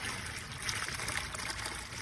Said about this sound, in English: I have to refill the water here